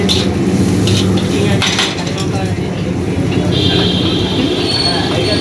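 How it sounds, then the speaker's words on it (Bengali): Chicken chow mein with capsicum and carrot being stir-fried in a busy street-side cabin kitchen in Serampore, with steady clattering of pan and utensils under a loud ambient roar, plus faint background voices. "দেখে নি লাইভ কি করে চাউমিনের রেসিপি তৈরি হচ্ছে"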